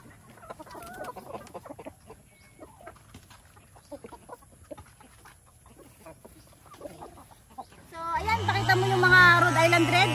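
Rhode Island Red chickens cluck softly in scattered bursts in a farm coop, with a person talking intermittently, then a sudden loud, dense burst of clucking and squawking from the flock near the end.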